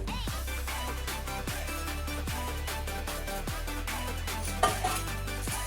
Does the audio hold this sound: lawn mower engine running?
no